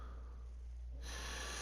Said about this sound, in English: Sorry about that, bro. Loud breathing.